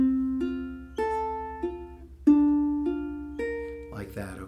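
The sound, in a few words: ukulele fingerpicking thumb, index, middle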